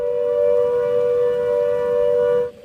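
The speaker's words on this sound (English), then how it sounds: "Flood sirens ring out across Hebden Bridge and Todmorden, warning residents that surface water from the hills pose an imminent threat." Flood warning sirens sounding across the Pennine towns of Hebden Bridge and Todmorden: a steady, loud, sustained tone carrying over the valley with no voices, cutting off at the end.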